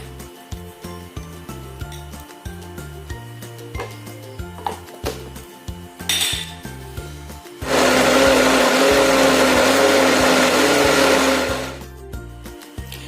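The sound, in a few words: electric blender grinding dried shrimp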